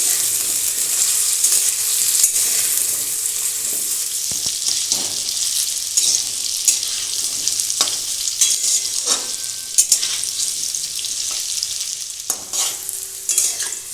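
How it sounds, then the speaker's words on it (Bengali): Potatoes and carrots frying in oil in a pan for an aloo dum with peas, a steady close sizzle with scattered utensil scrapes and stirring clicks throughout. "আলু গাজরগুলো আমি ভালো করে ভেজে নিয়েছি"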